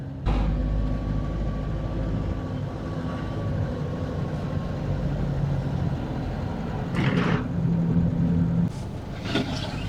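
A Citroen C25 2.5 turbo diesel camper drones along on the road from inside the cab, a steady low engine rumble with a couple of brief rattling bumps.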